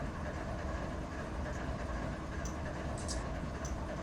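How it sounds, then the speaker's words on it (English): A long freight container train from Long Beach, California, rolls along in the Run 8 Train Simulator video game. A steady low rumble of wheels and cars carries quietly, with occasional faint metallic squeals and clinks above it. "And this is a container train from Long Beach, California."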